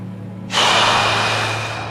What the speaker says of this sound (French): Et la respiration, comme vous pouvez l'entendre,